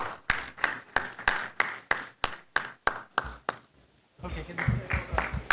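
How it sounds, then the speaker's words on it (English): Rhythmic, evenly spaced claps at a banquet honoring kids and a Board of Advisors, about a dozen sharp beats, then a short lull before a busier burst of clapping and crowd noise rises. "if we could a big round of applause to these kids and these Board of Advisors"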